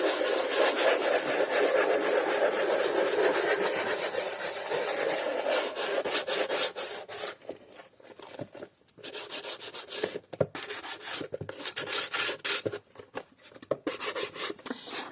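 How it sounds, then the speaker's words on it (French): Wood grooves are lightly sanded by hand, giving a steady, close rasping rub that runs continuously at first, then breaks into shorter, uneven back-and-forth strokes with brief pauses. "Je viens légèrement poncer les petites rainures"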